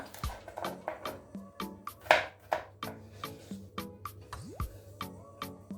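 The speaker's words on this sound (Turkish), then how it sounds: "Sarımsağımı da küçük küçük doğrayacağım." Rapid, even knife taps on a cutting board, close and rhythmic, as garlic is finely chopped; a low hum runs underneath.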